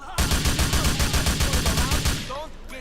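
An M4 assault rifle in GTA IV fires in rapid full-auto bursts, loud and close, its shots in an even rapid rhythm for two seconds before trailing off.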